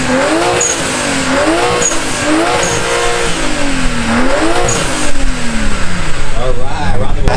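A BMW with a single turbo, cut downpipe, straight-piped mid section and Vibrant rear muffler revs hard at a car meet, its loud engine note rising and falling in repeated sweeps with people talking nearby.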